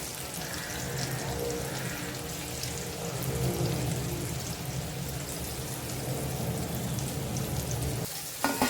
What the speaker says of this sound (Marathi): बाकीचं पण घालून घेते त्याच तेलामध्ये